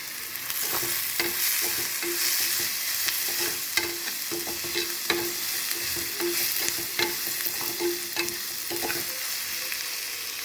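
Mutton brain being sautéed with kanthari chili in a pan, a continuous loud sizzle broken by repeated scraping and stirring knocks at an irregular rhythm, close up with no talking.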